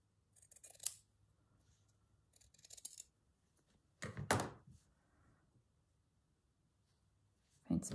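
Scissors snip through fabric for slow stitching in a few short, crisp bursts of cutting separated by quiet pauses, the loudest snip near the middle and another at the very end.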